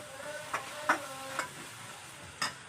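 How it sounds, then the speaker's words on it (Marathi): Spices sautéing with onion and tomato in a pan for pav bhaji, a soft steady sizzle broken by a few sharp spoon scrapes and taps against the pan, close and fairly quiet. "आता सर्व मसाले छान कांदा टोमॅटोमध्ये परतून घ्यायचे आहेत"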